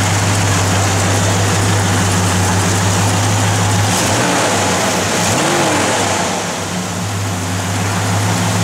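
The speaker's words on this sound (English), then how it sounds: "Go ahead, Jordy, you can fire it up." A 1970 Dodge Charger R/T V8 idles with a deep, steady low rumble close by, the tone lifting briefly in a couple of mild revs midway before settling back to a loud, even idle.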